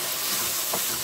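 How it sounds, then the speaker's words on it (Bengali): Onions and onion paste frying in a pan, a steady loud sizzle with a brief stirring scrape partway through. "তো আমি 1 মিনিট পেঁয়াজগুলো ভাজিয়া নিব।"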